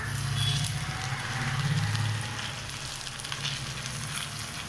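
Drumstick leaves fry and get stirred in a hot pan, giving a steady close sizzle with soft scraping underneath and no talk.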